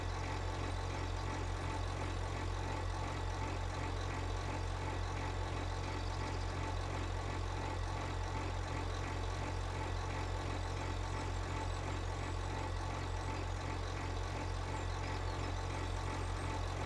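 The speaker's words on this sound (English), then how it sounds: "Well, listen to that engine sound." Steady vehicle engine idling and droning in Farming Simulator 25, a continuous low rumble with mid-range hum that stays constant and fairly loud throughout, with no voices.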